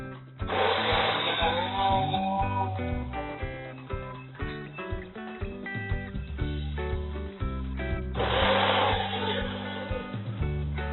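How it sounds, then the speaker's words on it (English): A kitchen blender whirs loudly through sweet pepper, hot pepper and onions, its motor surging at the start and again near the end while music plays underneath. "blend the sweet pepper, hot pepper, onions"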